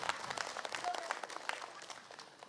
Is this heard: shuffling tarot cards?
no